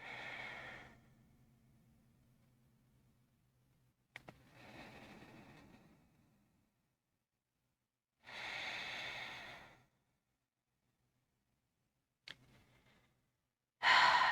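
Slow, deep breaths exhaled during a yoga practice: four separate soft, airy sighs spread across the clip with quiet pauses between them, close and fairly clear, with no talking.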